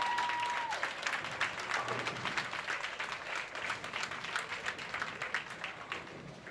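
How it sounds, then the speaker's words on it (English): Spectators applaud at a junior bowling championship, sustained crowd clapping throughout, with a short steady tone near the start and the sound easing slightly toward the end. "Well-deserved round of applause."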